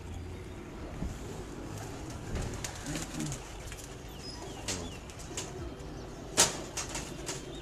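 Royal Teddy pigeons coo softly and steadily at close range, with occasional bursts of wing flapping and one sharp flutter near the end.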